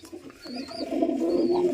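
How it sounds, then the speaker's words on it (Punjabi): Soft, low pigeon cooing murmurs continuously close by, with a faint higher chirp drifting over it; no talking. "ਇਹ ਉੱਤੇ ਦੀ ਬਹਿਣ ਲੱਗੀ ਕਬੂਤਰੀ"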